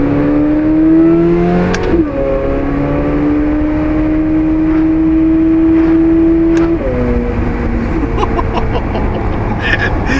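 A loud C8 Corvette engine revs up steadily, its pitch dropping sharply at each paddle-shifted gear change before climbing again, close and continuous.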